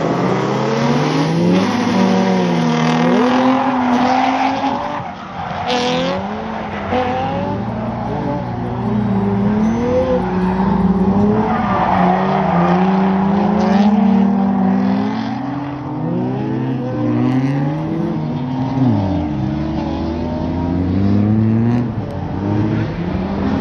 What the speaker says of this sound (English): This car is fast.